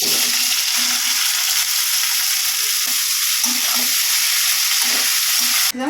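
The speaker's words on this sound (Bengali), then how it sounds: "বিটটা মেখে যে কড়াই বসিয়ে দিয়েছি কালো জিরা শুকনো লঙ্কা দিয়ে দিয়েছি এবার ভাজার এগুলো" Beetroot frying in a wok with black cumin and dried chilli gives a loud, steady sizzle that holds close and constant, with a few faint scraping stirs and no talking.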